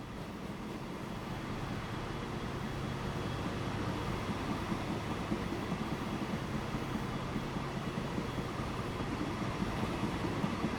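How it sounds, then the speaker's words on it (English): A train in the Transport Fever 2 game passes with a steady, dense rolling rumble and hiss that holds evenly and builds slightly, alone with no talk. "We're just going to have to wait for this train to move out of the way."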